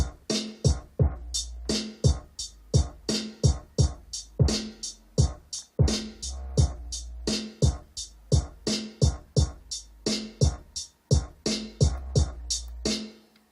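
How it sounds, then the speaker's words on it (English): Deep, booming bass notes of a hip-hop beat throb in repeating phrases beneath a punchy, steady drum pattern, with no voices. "So my bass line sounds like this."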